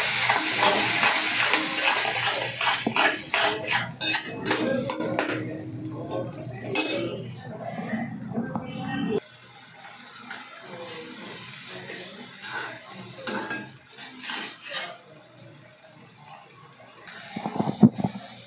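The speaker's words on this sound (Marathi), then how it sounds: "तो पेस्ट घालून घ्यायचा आहे आणि मिक्स करायचं आहे चांगलं" Masala paste being stirred into hot oil in a pan for fish curry, with utensil clinks and scraping against the pan in bursts, a brief pause midway, then continued stirring and clattering.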